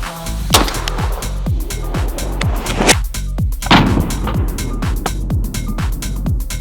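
Repeated loud shotgun blasts from an ATI Bulldog bullpup shotgun firing 3-inch slugs, a steady run of sharp booming shots with short echoing tails, fired one after another without talk.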